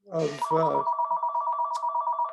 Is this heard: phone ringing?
yes